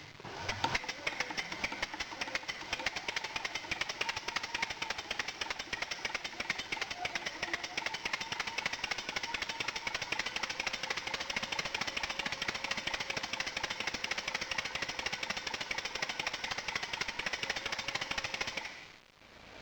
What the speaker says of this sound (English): This is the model steam engine I've built. It's running on compressed air. It's a 3-cylinder radial.